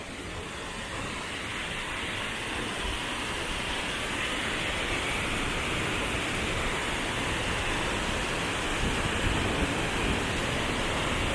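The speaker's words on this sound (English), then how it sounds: "that's the waterfalls coming through" Waterfall in Cebu, Philippines, surrounded by tall mountains, a steady loud rushing roar of falling water that holds constant throughout, with no voices over it.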